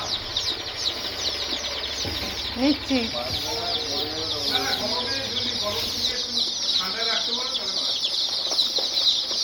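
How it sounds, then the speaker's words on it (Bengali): Chickens, both roosters and hens, cluck and chatter close by in a rural yard with a steady bird-heavy background, while people talk briefly over them. "ও এতে মোরগ আর মুরগি দুটোই আছে বলো।"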